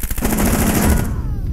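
Rapid automatic gunfire from the Rainbow Six Siege video game, a loud sustained burst of shots fired in quick succession that cuts off near the end, heard alone.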